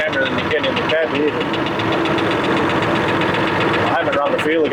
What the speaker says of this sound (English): Got a bit of a knock in here.